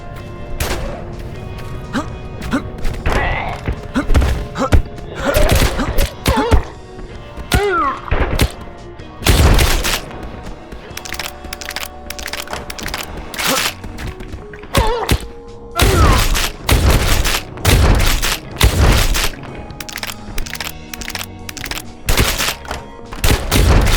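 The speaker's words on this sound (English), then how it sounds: "I'm hearing gunshots." Enemies fighting in a video game let off gunfire, heard as irregular thumping bursts and sharp shots scattered throughout, mixed with other game sounds and occasional talk.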